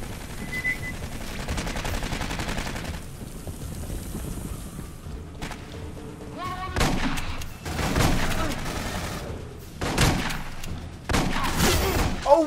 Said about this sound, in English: they got auto turrets!